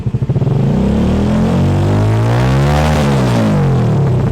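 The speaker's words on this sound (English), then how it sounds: "Listen to the engine sound." A homemade racing car engine built from scratch runs loud and close, first in quick pulsing beats, then settling into a continuous buzzing drone that rises and falls in pitch.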